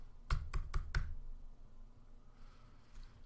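Four quick, crisp keyboard or mouse clicks tap out in rapid succession, close and fairly quiet, followed by a softer click after a quiet pause.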